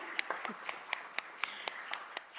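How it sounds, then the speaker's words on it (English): City council members in a meeting chamber giving themselves a round of applause, thin scattered claps from a small group, faint and somewhat distant, with murmuring voices underneath. "I think we should give ourselves a round of applause"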